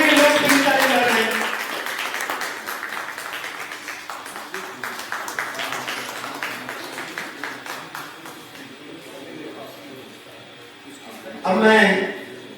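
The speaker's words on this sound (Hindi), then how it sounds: "तालियां बजनी चाहिए, आगे के लोग तीन तालियां कर रहे हैं।" Audience applause at a Hindi poetry-collection book launch: a steady patter of many hands clapping indoors, thinning and fading over several seconds, with a voice talking over the start and a brief louder burst near the end.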